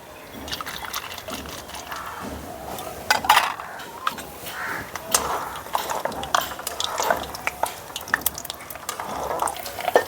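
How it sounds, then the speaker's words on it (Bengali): Peanuts fry in a pan for a crispy potato-straw snack, a close, busy crackle and sizzle with frequent stirring scrapes and light rattling throughout. "প্রথমে আমি চিনেবাদাম ভেজে নিচ্ছি।"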